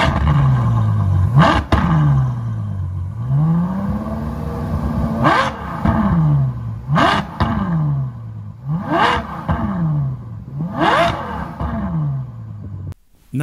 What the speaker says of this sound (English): you'll only hear one kind of high-pitched V12 F1 style thing when you're right up in the rev range